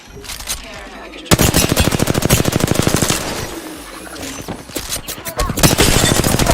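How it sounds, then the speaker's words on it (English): Rapid automatic gunfire in a video game, starting after a brief quieter moment and then rattling in dense, loud bursts almost without pause, with a short lull before the firing picks up again. "Listen up, I'm getting shot at. I am taking fire."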